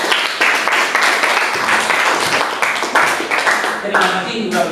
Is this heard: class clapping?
yes